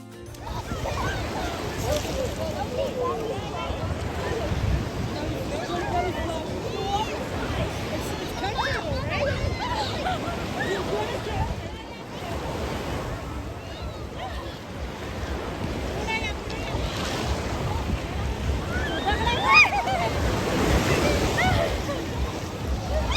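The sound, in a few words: waves at Port Stanley beach near Toronto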